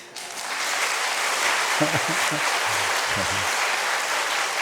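Broad, sustained applause from a church congregation during a Sunday gospel culture festival service, filling the room steadily for several seconds while a few voices speak briefly over it.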